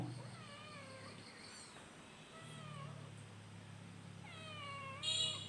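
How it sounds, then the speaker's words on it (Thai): A cat meows several times, high and drawn out, in separate calls spaced over a few seconds, over a low steady hum. "มีเจ้าเหมียวด้วยนะครับ เจ้าเหมียว"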